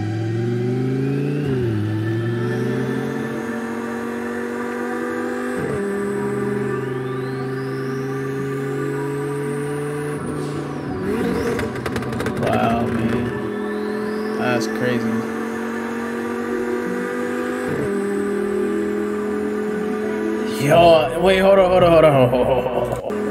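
A car engine revs repeatedly, rising and falling in stepped pulls with whining tones, loud and close, with a brief burst of clatter near the end; a person talks over it.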